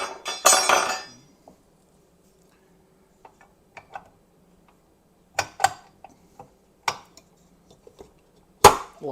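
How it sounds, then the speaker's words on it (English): Paddle attachment being fitted onto a stand mixer, a burst of rustling followed by scattered sharp metallic clicks and taps against a near-silent background. "we're going to put on our paddle attachment"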